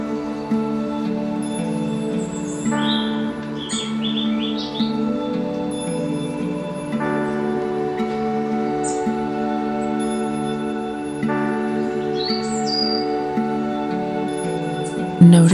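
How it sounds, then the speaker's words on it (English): Birds call in a quiet forest grove, several separate chirps and tweets that come and go over a soft, steady background of faint tones. "Notice the sounds of the forest, the soft rustling of leaves, a distant bird call, or the whisper of the wind moving through the trees."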